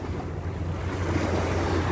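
Sea waves wash steadily around a ship carrying passengers to a mall, with a continuous low rumble and wind buffeting the microphone, no voices.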